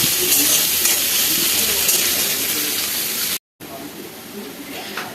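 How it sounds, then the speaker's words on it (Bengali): Onions frying in a pan for Bengali-style egg tadka give off a steady, close, loud sizzle with hiss, broken by a brief silent gap before it resumes. "পেঁয়াজটাকে আমি এবার একটু ভালো করে ভেজে নেব।"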